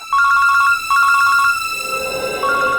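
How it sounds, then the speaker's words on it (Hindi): An electronic phone ringtone trills in quick repeated bursts, loud and close, with a short pause between rings. "स्कूल से फोन।"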